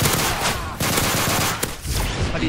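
Rapid shotgun fire in Modern Warfare 3 co-op survival, loud blasts rolling almost continuously in dense bursts with a brief gap midway.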